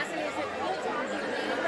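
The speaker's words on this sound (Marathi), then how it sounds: "भरपूर गर्दी आहे" A dense crowd chatters at the Pandharpur temple, a steady murmur of many overlapping voices with no single clear speaker, moderately loud and continuous.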